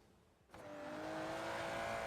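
An Aston Martin Vanquish in Forza Horizon 3 sits quiet, then its engine surges loud at about half a second and holds a rising, sustained roar as the car accelerates down a street.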